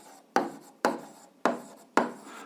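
Pen or marker strokes on paper or a board while working out an algebra solution, four distinct scratchy strokes each starting sharply and trailing off, evenly spaced, close and moderately quiet, with no talking.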